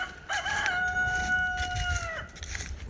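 Rooster on a homestead crowing once, a clear, fairly close drawn-out cock-a-doodle-doo with a few soft clucks around it.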